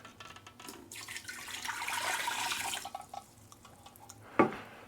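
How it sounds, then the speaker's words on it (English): Water pours into the inner pot of an Instant Pot in a kitchen, a steady splashing stream of about two seconds that swells and then tapers off, followed by a single sharp knock near the end, with no talking. "let's just go ahead and pour some water in there."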